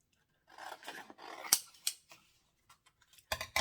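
Scissors cutting out two fabric pieces for a bag, with several close snips and rustling cuts in short irregular bursts.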